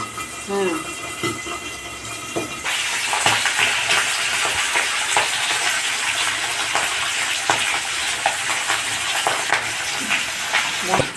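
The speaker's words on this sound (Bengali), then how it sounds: "এবার মাছটা ভেজে নেব। পাবদা মাছ তেলে প্রচণ্ড ফোটে" Pabda fish dropped into hot oil bursts into a loud, continuous sizzle and crackle with sharp spattering pops, preceded by a brief quieter moment with a voice.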